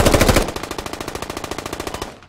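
Automatic fire in the video game Squad: a loud, close burst opens, then a long rapid stream of slightly softer shots follows at an even rhythm before stopping.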